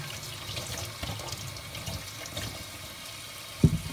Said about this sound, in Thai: ล้างเห็ด